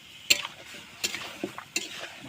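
Chicken meat being stirred in a cooking pot, with a spoon scraping and clacking against the metal in a few spaced strokes over a soft simmer.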